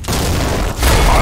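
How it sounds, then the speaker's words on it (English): A grenade in Counter-Strike Online 2 detonates with a loud, close, booming burst that swells and holds for a moment, with no talking. "Tossing grenade! Fire in the hole!"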